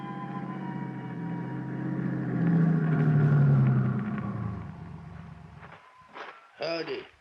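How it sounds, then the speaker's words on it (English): A car driving up to a mountain camp in a radio drama, a rumbling engine swelling and fading before the vehicle stops and voices begin to talk. "Drive up to Primrose Camp."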